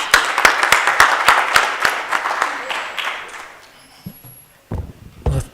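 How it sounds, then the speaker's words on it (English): Audience at a South Africa democracy reflection forum giving a round of applause, a few loud, evenly spaced claps ringing out for about three seconds before thinning into scattered handling noises and silence. "Let's give him a round of applause as he asks."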